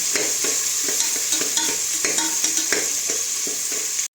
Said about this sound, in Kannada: ಸ್ವಲ್ಪ ಈರುಳ್ಳಿ ಬೇಯೋವರೆಗೂ ಕೈ ಆಡಿಸ್ತಾ ಇರೋಣ.